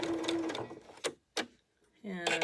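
A sewing machine stitches a gusset onto a tank top in short close bursts of whirring separated by pauses, with a person talking alongside.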